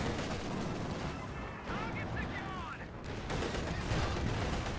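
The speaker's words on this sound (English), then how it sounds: "MG being very aggressive." Dense machine gun fire and battlefield gunfire from a Company of Heroes 2 World War II strategy match, a steady loud rattle of shots and booms under a caster's commentary.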